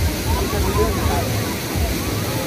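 A famous waterfall at a sightseeing spot pours with a steady, loud broadband rush of falling water, filling the whole moment; a voice speaks faintly over the roar.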